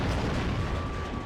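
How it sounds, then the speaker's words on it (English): A grenade blast in the shooter game 007: Agent Under Fire produces a loud, dense, rumbling roar that fills the whole moment with no voices over it. "Toss a grenade."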